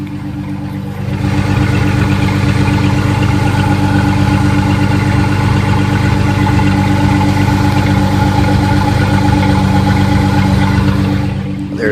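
A 1999 Mustang's 3.8 V6, fitted with high-flow cats, stock headers and exhaust dumped behind the rear tires, idles loud and close in a steady, even throb from start to finish.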